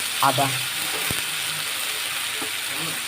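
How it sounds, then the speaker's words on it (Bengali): Chopped tomato with salt fries in a pan, a steady close sizzle with a few faint scraping clicks of stirring. "টমাটোটা দিয়ে ভালো করে ভেজে নেব"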